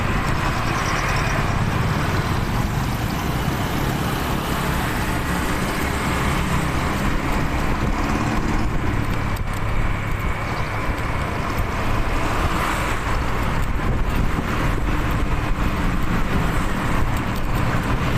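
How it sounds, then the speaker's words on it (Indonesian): Slow, dense road traffic crawling through Punten in Batu, East Java: a steady, loud wash of car, bus and truck engines with continuous roadway rumble throughout, no single vehicle standing out. "di kawasan Punten kendaraan mulai agak padat merayap ini"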